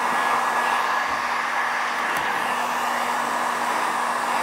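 A heat gun blows steadily and loudly throughout while warming Surfex interior wrap film on the edge of a kitchen cupboard door, a constant airy roar with no talking.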